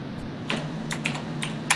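Computer keyboard typing, a handful of sharp, separate key clicks at an uneven pace against a quiet room background, close and clear.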